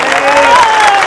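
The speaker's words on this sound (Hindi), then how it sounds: "एक बार तालियां बजाकर तमाम लोगों का स्वागत कीजिए।" A crowd at a Samajwadi Party political gathering in Shivaji Nagar claps to welcome guests, producing a loud, continuous wash of applause with a sustained voice-like tone rising and falling over it.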